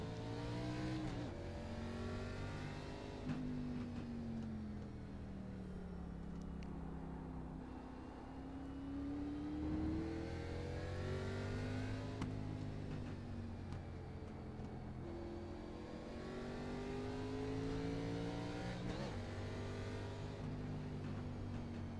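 A race car engine in the iRacing sim hums and revs on an out lap at Road America in an Xfinity Series race, pitch swelling and falling through gear changes, steady and continuous.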